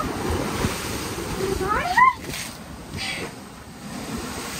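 Ocean waves break and wash onto the beach at Alibag, a steady broadband surf roar with wind buffeting the microphone, while voices call out briefly near the middle.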